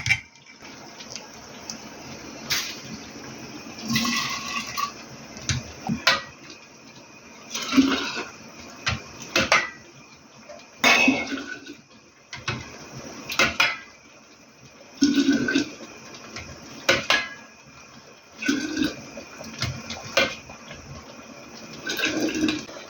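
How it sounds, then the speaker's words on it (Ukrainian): A colander is lowered into a pot of boiled apple and grape drink, making repeated splashing, sloshing bursts of liquid separated by short quiet pauses, close and fairly loud. "Добре опускається друшлак."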